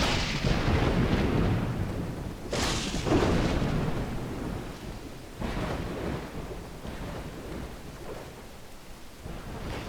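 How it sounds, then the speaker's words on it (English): Thunderstorm in the survival strategy game Dawn of Man: continuous loud rumbling thunder with sharp cracks near the start and middle over steady rain, with no voices. "Out there who actually is listening to this storm."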